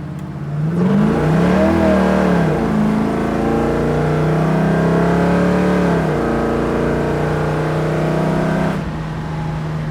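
A 1971 Chevrolet Camaro engine revs and accelerates loudly up through the gears, a deep rising roar that drops briefly before climbing again, heard from inside.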